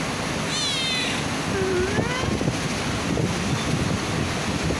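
A pet cat gives a couple of short meows, the clearest one near the start, set against steady outdoor wind noise and a continuous rushing background. No one speaks.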